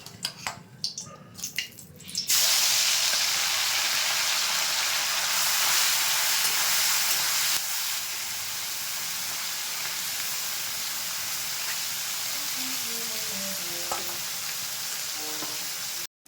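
Mourala fish go into hot refined oil in a kadai and burst into a loud, dense sizzle that settles into a steady, slightly quieter frying hiss, with a few faint clinks and handling noises before it starts.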